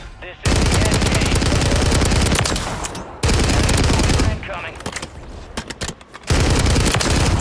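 Rapid automatic gunfire in Warzone 3 on Rebirth Island, with an MP7 in play: loud, close bursts of sharp shots in long runs broken by brief pauses, with a fainter stretch of scattered shots midway.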